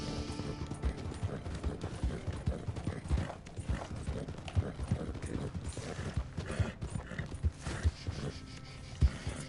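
Rhythmic hoof clip-clop of a trotting horse in the video game Red Dead Online, with scattered clanks and mechanical noises, a steady repeating beat at moderate volume.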